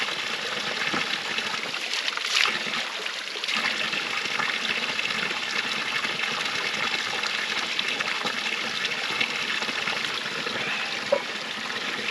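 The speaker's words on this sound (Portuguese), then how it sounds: "Tem essa fontezinha aqui, ó." Small roadside water fountain with an aluminium cup, trickling and splashing steadily and close by for the whole stretch, with no talk over it.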